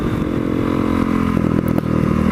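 A naked motorcycle cruises on a dual carriageway, its engine a loud, close, continuous drone with wind rush and a slight rise in pitch, no voices over it.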